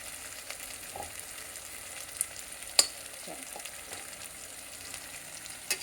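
Ginger garlic paste added to onions frying in a pan for bagara rice, giving a quiet continuous sizzle with a few light stirring scrapes and small clinks, close by and with no voices.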